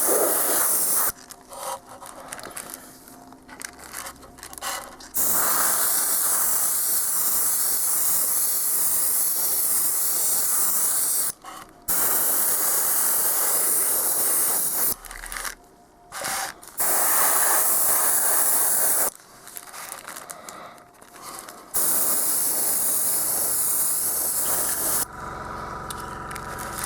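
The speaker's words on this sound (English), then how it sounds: "always spray from different angles, because here and there, for example here, sometimes the airbrush doesn't get to it, so you have to respray certain areas" An airbrush sprays paint onto an Imperial Guard Chimera tank model, giving a loud, close, steady hiss in long bursts that cut off into short pauses and then start again.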